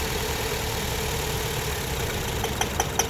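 A car engine idling after its ignition coils were swapped to fix a misfire, a steady, close rumbling hum with a few sharp ticks near the end.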